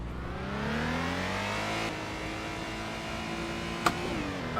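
A Suzuki Alto's small engine revs on the Silverstone GP circuit in the Assetto Corsa racing game. Its moderately quiet note rises steadily, drops at a gear change, climbs again, and ends with a brief sharp click.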